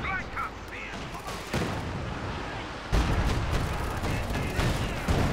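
An artillery barrage in the strategy game Company of Heroes 2 thunders as a dense stretch of booming shell impacts and gunfire, loud and continuous with heavier hits midway, under a commentator's voice.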